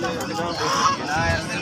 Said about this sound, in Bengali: কি সুন্দর হাঁস।